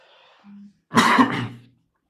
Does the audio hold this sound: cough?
yes